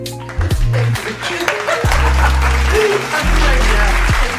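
A recorded cheer of applause played on a podcast, crowd clapping and cheering rising and holding loudly, layered with steady musical tones.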